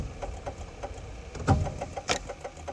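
A car engine runs quietly at a low idle, a steady mid-range hum with a few faint knocks and clicks throughout, heard alone at low level.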